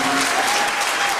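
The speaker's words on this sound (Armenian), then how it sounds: "խնդրում եմ ծափահարել" An audience claps at a school gathering, a loud, dense, continuous burst of applause from a crowd that stays even throughout.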